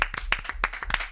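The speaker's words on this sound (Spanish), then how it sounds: "Un aplauso unánime que he levantado yo misma." An audience claps together in quick, uneven bursts of applause, close and fairly loud for just over a second, with no talking on top.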